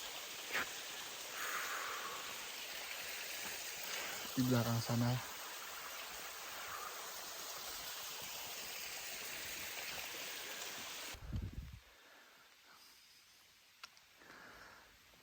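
Steady rushing water of a waterfall on a trekking trail near Wae Rebo, Indonesia, fills the scene, with brief speech and a loud handling bump before the roar drops away.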